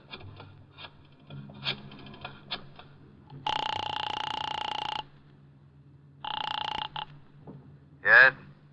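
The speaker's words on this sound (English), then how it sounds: "I got out and found a telephone. I dialed the Kelsey residence." A telephone rings in a radio drama, two long buzzing tones with a gap between them, preceded by faint clicks as if from dialing, with a brief voice at the end.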